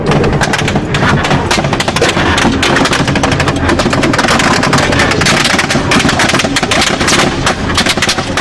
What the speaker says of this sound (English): They came under heavy enemy fire.